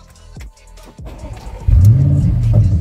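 An Audi RS6 engine starts and revs loudly, settling into a throaty, rising idle roar after a couple of short clunks.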